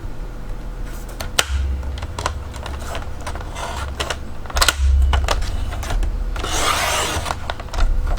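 A 1.5 inch strip is cut from 12x12 paper with a close, continuous rasping scrape and a few sharp clicks along the way.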